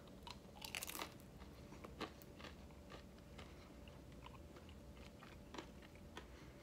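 Crunchy chewing of a mouthful of pot stickers, close and quiet, with a few sharper bites and crunches scattered through a steady low background murmur.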